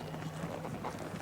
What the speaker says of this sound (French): Aller dans l'eau avec les chevaux.